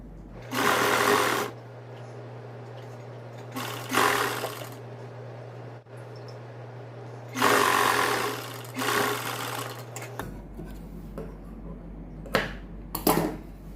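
Sewing machine stitching lace onto a ladies suit, running in several loud bursts of rapid stitching separated by quieter pauses, alone with no talk.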